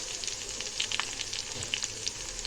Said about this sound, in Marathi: कढई ठेवलेले आहे त्याच्यामध्ये दोन पळी तेल टाकलेलं आहे आपण फोडणी देऊन घेऊया